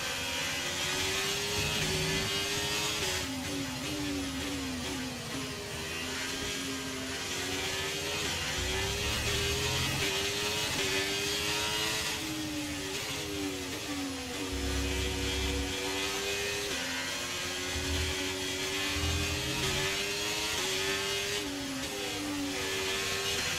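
A Formula 1 racing car engine in the video game F1 23 whines and revs continuously, rising and dropping in pitch through gear changes, loud and close throughout.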